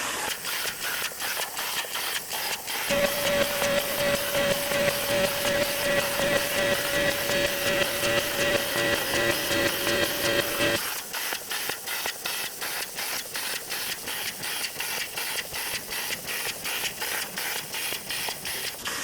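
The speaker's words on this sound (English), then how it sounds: "The plasma cutter I'm using to cut this out is my YESWELDER" A YESWELDER CT2050 plasma cutter cuts steel for a welded log rack: a loud, steady hissing rush with rapid crackling. A bright sustained tone enters partway through and later stops, and the hiss continues alone afterward.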